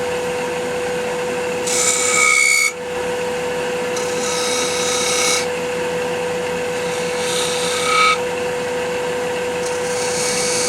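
A power multi-tool buzzes against wood in several bursts, a high whine rising and falling over a steady hum, close and loud.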